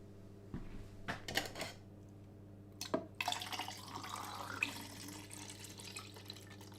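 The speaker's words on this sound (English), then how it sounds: "I'm using Bellini Fix because it's less smelly, so I'll pour that in now." Bellini Fix fixer is poured into a film developing tank in a quiet room: a few faint knocks and clinks, then a soft, steady trickle of liquid.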